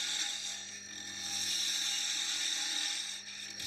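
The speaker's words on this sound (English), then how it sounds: "Next, turn the finial on the lid with a spindle gouge." A spindle gouge cuts a finial on a threaded wooden lid spinning on a lathe, with no tailstock support, giving a steady close whirring scrape with a faint motor hum beneath, swelling slightly in the middle.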